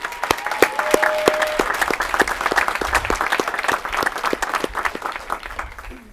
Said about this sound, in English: let's please give them a great round of applause and show them some love